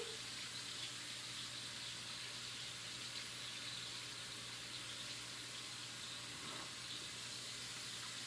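Water runs steadily from a kitchen faucet during handwashing, a constant faint hiss and splash that holds for several seconds with no talking over it.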